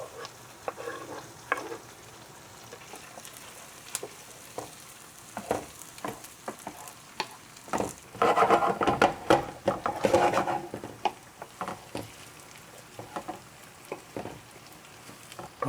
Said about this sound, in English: Now garlic goes in with our potatoes.